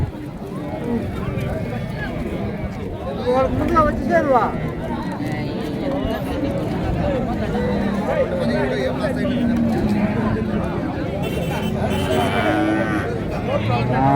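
A calf moos repeatedly amid a busy, noisy crowd at a cattle market, with people talking throughout close by.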